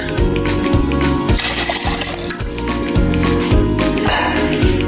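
Five glasses of water pour steadily and loudly into a pot for pulao stock, a continuous splashing gush with some clattering underneath.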